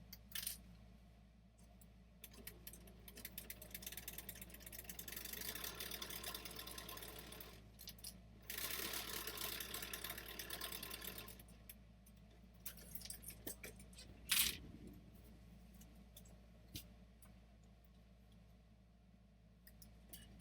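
Sewing machine stitching a foundation paper pieced quilt block, bursts of steady mechanical whirring broken by pauses, with small clicks and a sharp clink near the end, close and moderately loud.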